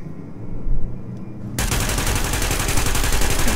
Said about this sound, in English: As soon as the elevator starts going down, you can shoot.